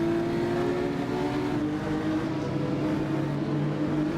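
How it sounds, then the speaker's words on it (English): GT4 race car engines roar in the Assetto Corsa racing game, a steady, dense, droning engine tone with slight pitch shifts as several cars run together, loud and continuous with no speech. "I really gotta point out just how good the audio is on these cars"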